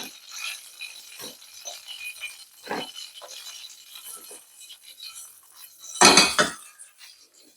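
Cooked chicken wings being put into a bowl, heard as light metallic clinks and scrapes of utensils against dishware, with one louder clatter near the end, close and fairly quiet.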